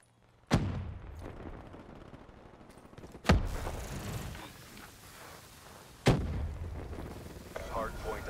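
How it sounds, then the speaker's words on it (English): Three sharp, loud blasts roughly three seconds apart, grenade explosions mixed with gunfire in Call of Duty Black Ops III, each leaving a rumbling tail under steady battlefield noise. "Grenade!"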